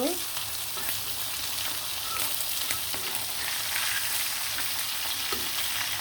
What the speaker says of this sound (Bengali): আর এদিকে কিন্তু ভাজা হয়ে যাচ্ছে ইলিশ মাছগুলা